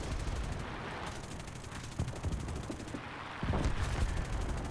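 Machine gun fire from an F4U Corsair fighter plane in the War Thunder combat flight game, a dense continuous rattle of rapid shots over steady engine drone, fairly quiet and unbroken throughout.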